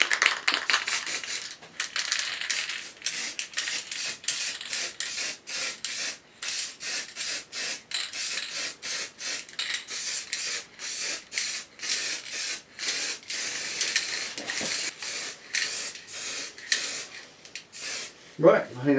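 Aerosol spray bursts lay down the fifth and final thin guide coat on a Triumph motorcycle bash plate, a close, repeated series of short hissing puffs with brief pauses between, with a person talking at times.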